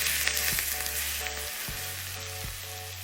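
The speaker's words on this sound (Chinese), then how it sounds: "然后浇上烧好的热油。" Hot oil poured over chopped scallions, white sesame seeds and chili flakes in a bowl, giving a steady close sizzle with a few brief bursts and no talking.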